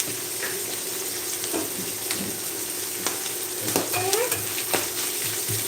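Liver sizzles steadily in a frying pan beside simmering vegetables, with a constant crackling hiss, occasional pops and a few soft scraping stirs, and no talking.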